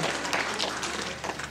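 Children clap at a church Christmas event in a short, loud burst of scattered, bright applause that fills the room for a moment.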